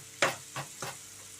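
Sliced onions frying in oil for a brinjal and tomato curry: three quick scraping stirs in the pan over a soft, steady sizzle, close up and with no talking.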